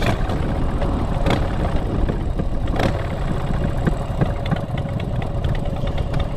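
A motorcycle engine idles with a steady, loud, close rumble, broken by a couple of sharp clicks and a small rev before it shifts into neutral.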